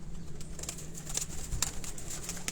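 Pigeons coo faintly on a rooftop in Kasur, a low steady murmur under light ambient noise with occasional soft clicks and rustles.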